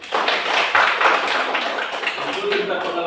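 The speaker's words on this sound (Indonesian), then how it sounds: "Oke, tepuk tangan dulu." Classroom audience clapping at a Catholic religious education teacher-training session, a dense steady patter of hands filling the room for about three seconds with a few louder bursts.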